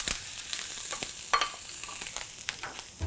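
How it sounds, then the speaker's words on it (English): Onions sizzle and crackle as they caramelize in a big pot over low-medium heat, with a few stirring scrapes along the way. The frying is close and steady, with no voices. "in, like on a low medium heat, and I'm gonna caramelize them"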